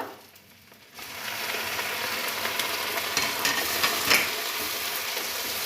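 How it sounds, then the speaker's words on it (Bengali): Chicken pieces fry in oil with reddened onions, starting with a sudden rise into a continuous close sizzle with stirring scrapes and small pops, no talk. "মাংসগুলো আমি ভালো করে এর মধ্যে ভেজে নেব"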